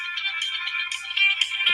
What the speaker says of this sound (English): Should have silenced my phone.